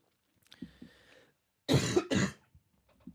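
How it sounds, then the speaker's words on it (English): A man coughs twice in quick succession, close and fairly loud, after a soft breathy throat noise and a short murmur; otherwise quiet. "Excuse me for coughing."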